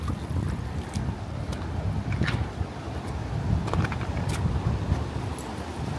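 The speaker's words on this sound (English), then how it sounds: "Let's go and check out this river that I can hear gushing." Wide, cold river swollen with snow melt, rushing steadily in a dense broadband roar with a few faint higher splashes, close and continuous, no talking.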